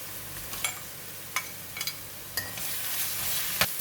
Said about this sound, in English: Continue to fry until garlic and ginger has released its aroma